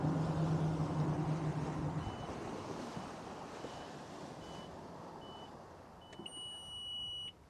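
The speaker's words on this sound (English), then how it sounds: "All the alarms are going off all over the place." Short electronic marine safety and security system alarm beeps sound intermittently in a repeating pattern over heavy wind and rushing water, with a steadier tone near the end.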